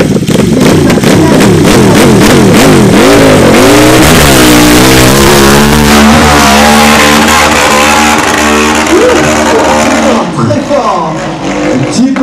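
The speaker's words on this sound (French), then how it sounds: "avec toute la puissance de sa machine, il va déposer semble-t-il, dans le dernier mur, sa moto SFS, Stéphane Pirel." A motorcycle climbs a steep slope in a French hill-climb event, its engine roaring loud and close, revving and rising in pitch through repeated throttle bursts before cutting down near the end, with a commentator talking over it.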